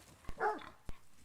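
A man imitates a dog's bark with his voice to lure hogs during a South Texas hog hunt: a single gruff bark-like call framed by two sharp clicks, close and alone.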